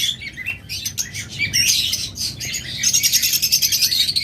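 Pet birds chirp and tweet at close range from a cage in a bird seller's stock, with bright rapid calls overlapping in busy bursts and no talk.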